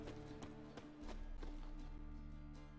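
Horse hooves clip-clop in a rhythmic run within a video game, faint under steady game music and ambience.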